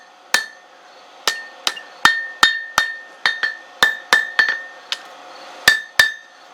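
A hammer strikes a forged railroad spike at the lap joint, about fifteen sharp, ringing metallic blows in an uneven rhythm, close and loud with short decays between hits.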